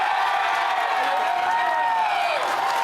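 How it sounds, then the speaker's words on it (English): A studio audience at a live taping of a comedy tech show claps, whoops and cheers in one dense, steady wash of crowd noise that stays loud and close for the whole stretch. "how many people here, by a show of applause, think Dan can do it?"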